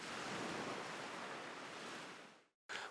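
Ocean waves played back as a recording, a steady broadband wash of surf at full loudness that fades out near the end, then briefly returns after a short silence.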